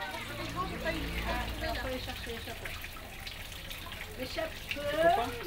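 Water falling from a small child's hand, a soft trickle and splash running beneath a continuous spoken voice.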